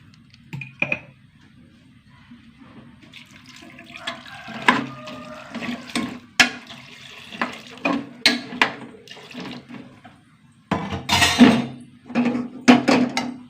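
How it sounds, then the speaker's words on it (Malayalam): Water poured into a cooking pot in a home kitchen, heard as splashy pouring bursts, clattering and sloshing, growing louder and denser toward the end with no talk. "വെള്ളം ഒഴിച്ച് കൊടുത്തു"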